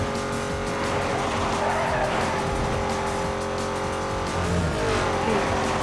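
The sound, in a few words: car racing and skidding in video game Need for Speed Most Wanted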